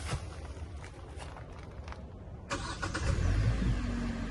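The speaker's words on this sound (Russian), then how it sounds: "Заводим двигатель." A Kia K5 with an LPI liquefied-gas fuel system starts up, a brief crank followed by the engine catching and settling into a steady low idle. It is heard up close inside the car, with faint background noise beforehand.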